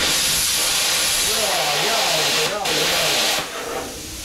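A plasma cutter torch pouring out a loud, steady, close hiss with a wavering tonal whine mixed in, dropping briefly twice and easing off slightly near the end, while a voice talks over it.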